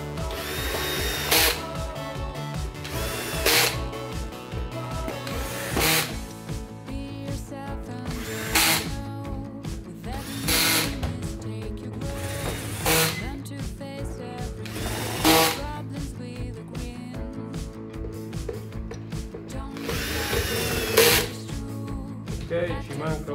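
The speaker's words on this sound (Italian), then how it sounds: "se state utilizzando un trapano avvitatore, utilizzate la funzione avvitatore con una frizione bassa" Cordless drill driver on low clutch driving screws while reassembling the motor suction duct of a Folletto VK 140 vacuum cleaner, repeated short whirring bursts with rhythmic pulses, close and steady throughout with no talk.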